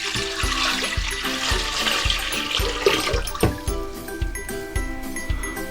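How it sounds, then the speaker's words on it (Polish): A litre of water splashes and gurgles steadily into a pot for several seconds, up close, with a faint rhythmic background beat. "Wlewamy do naszego garnka litr wody."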